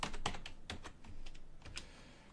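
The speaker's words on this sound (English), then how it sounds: "somebody is just typing away." Fingers tap rapidly on a computer keyboard, producing a quick, uneven run of close, light clicks with no voices.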